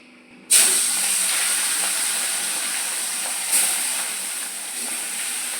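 Fish frying in hot oil in a wok bursts into a loud, close hiss as it goes in, then keeps up a steady sizzle, with a second brief flare of spitting partway through.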